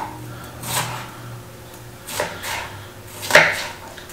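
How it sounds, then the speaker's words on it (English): Onions are chopped on a cutting board for venison enchiladas, a few separate knife strikes spaced about a second apart, the last one sharpest and loudest, close by with no speech. "I'm really bad at chopping onions."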